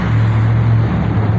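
Steady road traffic rumbling in the background, a continuous low drone of passing cars with no voices over it.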